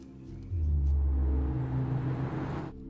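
A car pulls up in a film scene: a deep engine rumble surges in suddenly, holds strong for a couple of seconds, then eases off, with no talking.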